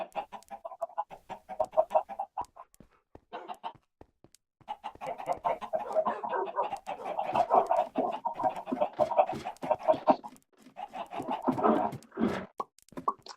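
Chickens crowded against walls on a video game server clucking repeatedly in uneven bursts, steady and fairly close, with a short pause partway through and no talk.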